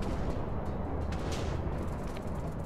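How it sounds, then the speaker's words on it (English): A huge Ivy Mike nuclear explosion in the Minecraft HBM Nuclear Tech mod produces a continuous loud, rumbling roar with crackling bursts layered on top, sustained throughout. "This is by far the biggest nuclear explosion I've seen so far in the HB Nuclear Tech mod."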